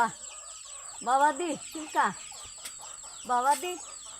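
A parrot squawks out short, raspy, word-like calls in three separate bursts, with a thin steady high tone in the background.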